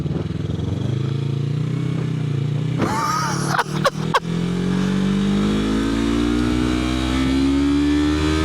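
A Yamaha YZF-R3 motorcycle engine revs out on a highway at night, its tone climbing steadily, briefly breaking with a few sharp clicks during a gear change, then rising again, loud and close with steady wind rush.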